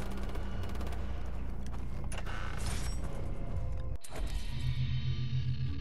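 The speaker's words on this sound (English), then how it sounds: "All I hear is gunshots." Far Cry 3 gunfire crackles in rapid bursts amid mechanical clatter and creaks, ending with a sharp cutoff before a quieter stretch.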